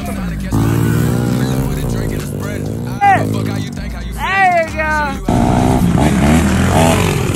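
Motorcycles racing at full throttle, engines droning and rising in pitch through several gear changes, loud and close, with people talking over the engine noise.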